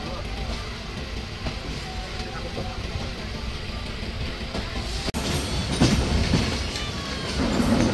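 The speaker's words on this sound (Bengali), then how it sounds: "কচ্ছপের গতিতে ট্রেনটি Hili railway station through pass করে যাচ্ছে।" A Banglabandha Express train rolls slowly through Hili railway station near the India border, heard from on board as a steady rumble of wheels and carriages with soft clacks and a louder rattle toward the end.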